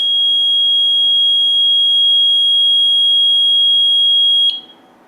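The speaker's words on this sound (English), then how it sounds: "you'll get a confirmation tone when the alarm is set." A steady high-pitched electronic confirmation tone from a Pyronix Enforcer burglar alarm sounds loud and continuous for several seconds as the alarm sets, then cuts off sharply, leaving near silence.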